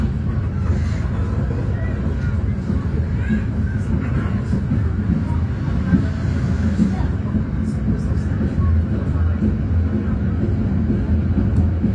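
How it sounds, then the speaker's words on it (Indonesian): Continuous low rumble and rattle of the Mutiara Timur passenger train running along the tracks, heard from inside a business-class carriage, steady and loud throughout. "kereta api Mutiara Timur akan segera diberangkatkan"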